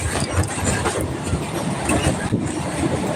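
A train rolls steadily along the rails, heard from inside a carriage as a loud continuous rumble with faint clickety-clack over the wheels.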